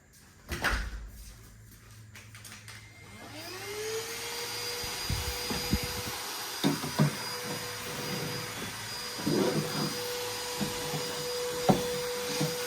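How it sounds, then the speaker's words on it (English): A vacuum cleaner whirs up to a steady hum and keeps running, with knocks and bumps of the machine being moved around over it. "not the best vacuum"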